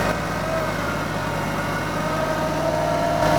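A John Deere 2515 tractor fitted with a backhoe and front loader sits idling, a steady low mechanical drone with a constant hum and no voices over it.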